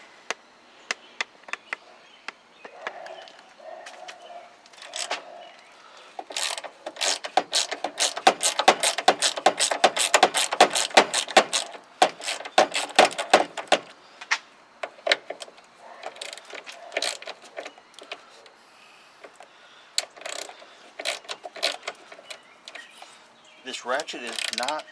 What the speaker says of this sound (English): This ratchet is not my favorite ratchet at all.